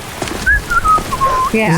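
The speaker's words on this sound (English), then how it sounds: "We gotta whistle while we go by." A person whistles a wavering, sliding tune at close range for about a second, while walking a rocky path in a Skyrim game session, with faint speech and game sounds around it.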